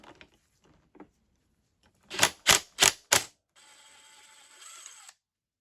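Impact tool zipping a 17 mm flywheel nut off a Yamaha YZ450F: four sharp rattling bursts in quick succession, then a steady whirring spin for about a second and a half, close and loud.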